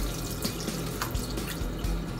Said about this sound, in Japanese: ときはもうバーッと水で流しちゃって大丈夫 です。